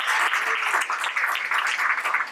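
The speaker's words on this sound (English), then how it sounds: "everyone give Leslie a big round of applause" An audience at a live Pecha Kucha speaking event claps for a volunteer named Leslie, a brisk burst of close, dense applause lasting a couple of seconds.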